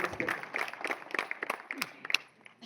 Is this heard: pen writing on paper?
no